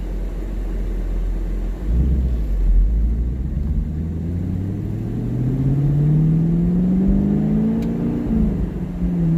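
A 2019 Camaro SS V8 with its secondary catalytic converters deleted and an aftermarket downpipe fitted runs loud and close, a deep steady rumble rising through revs in smooth sweeps with no talk over it.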